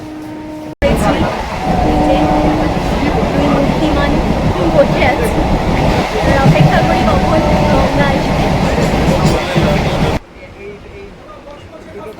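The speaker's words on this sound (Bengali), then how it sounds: "একের পর এক স্টেশন আসছে, পাশ থেকে ট্রেন চলে যাচ্ছে" A train ride in Kolkata: a loud, steady rumble and rattle of the moving carriage runs for about nine seconds, then cuts to a quieter background, with a voice speaking over it.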